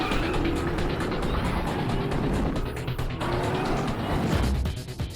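Batman's Tumbler, his armored car in Gotham City, roars past with a loud, steady engine rumble and a whoosh of tires that swells and fades over several seconds, with no voices.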